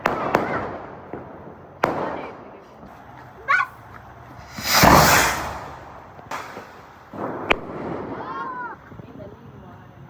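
Diwali firecrackers go off in sharp separate bangs, near and far, with one longer crackling burst in the middle and a whistling rocket toward the end; voices talk between them.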